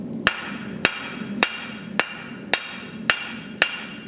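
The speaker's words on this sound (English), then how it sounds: "get your hammer on the anvil" A blacksmith's hammer taps hot steel on an anvil, eight sharp ringing metallic strikes at an even, unhurried pace, close and clear with nothing else over them.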